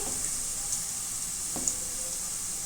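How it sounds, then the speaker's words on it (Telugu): Ginger garlic paste frying in hot oil gives a steady, faint sizzle with a soft crackle, the texture even across the whole stretch and no one speaking. "అల్లం వెల్లుల్లి పేస్ట్ వేస్తున్నా. ఇది పచ్చివాసన పోయేంతసేపు ఆయిల్లో ఫ్రై చేసుకోవాలి"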